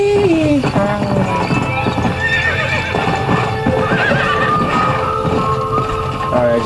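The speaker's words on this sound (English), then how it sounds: "Here's my horse." A horse in Red Dead Redemption whinnies loudly over steady clopping hooves, with a dense game soundtrack running throughout.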